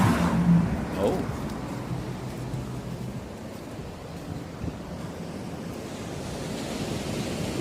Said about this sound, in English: at least you can hear the sound of the sea